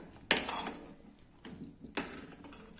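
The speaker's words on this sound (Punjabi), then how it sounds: "ਹੁਣ ਆਪਾਂ ਇਹਨਾਂ ਨੂੰ ਇੱਕ ਵਾਰ ਹਿਲਾ ਦਿੰਨੇ ਆ" Amla (Indian gooseberries) being stirred in a cooking pan, giving two distinct scraping, clattering strokes of a spoon against the metal with a faint rattle between them and no talk.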